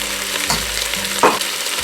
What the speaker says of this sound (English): You hear it sissing away nicely there.